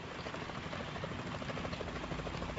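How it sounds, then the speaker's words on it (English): A helicopter in the Metal Gear Solid 2 video game gives off a steady, dense rotor chop and engine drone, loud and continuous throughout with no talk. "Is that a chopper I just heard?"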